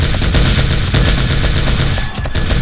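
Rapid, continuous gunfire from a hard-recoiling gun in the zombie survival game 7 Days to Die during a feral horde night, loud and dense bursts running almost without pause.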